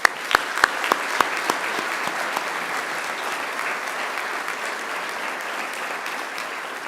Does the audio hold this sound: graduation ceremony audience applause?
yes